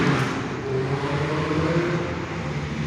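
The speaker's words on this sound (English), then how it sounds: "That's a loud ass motorcycle" A loud motorcycle roars past nearby, its steady engine drone holding for a few seconds with no talking over it.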